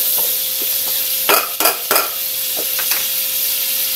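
Potatoes and carrots sauté in a hot pan for a sautéed vegetable dish with shrimp, sending up a constant loud sizzle. A quick run of scraping, clinking stirs breaks through midway, then the frying carries on.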